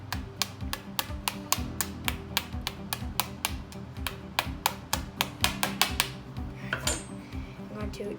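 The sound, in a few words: tapping a bath bomb mold with a spoon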